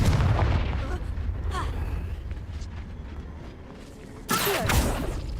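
A Confringo blasting spell from Hogwarts Legacy goes off as one sudden, loud, sharp burst near the end, after several seconds of muffled rumbling and creaking game ambience.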